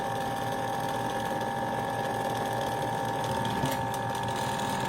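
An e-spinner motor runs while rattling against a crooked table leaf, giving a steady mechanical whir and buzzing rattle that stays constant and fairly quiet throughout, with no talking.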